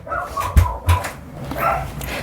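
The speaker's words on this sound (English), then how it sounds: "You're going to hear her barking like crazy" Dog barking indoors in a short, loud burst of two or three sharp barks with some whimpering, close to the microphone.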